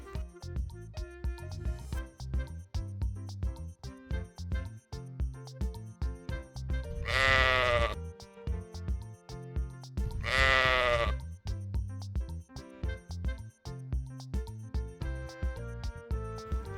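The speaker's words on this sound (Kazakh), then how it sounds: "Қойдың төлі қозы." A lamb bleats twice, loud and close, each a wavering cry about a second long, over a steady plucked musical backing.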